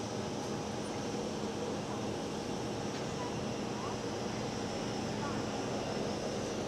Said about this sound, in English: Cathay Pacific 747 is taxiing.